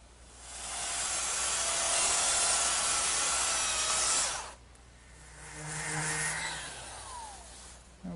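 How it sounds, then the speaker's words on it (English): A power sander smooths a wooden piece where a joint sits slightly proud, giving a loud steady whirring rasp for about four seconds, then a quieter second pass with a few tonal whines before it winds down. "so I'll just dress that up with my sander."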